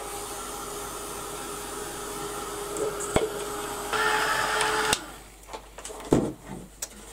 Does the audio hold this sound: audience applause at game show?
no